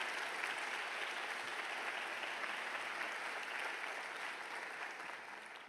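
Sustained applause from an audience at a medical graduation oath ceremony, a dense, even clapping texture that holds steady for several seconds before tapering slightly at the end.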